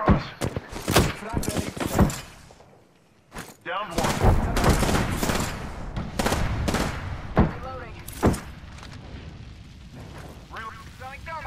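Gunshots in an Apex Legends squad match ring out as loud scattered cracks and short bursts, some near and some farther off, with a brief lull before more firing, under a player's occasional talk.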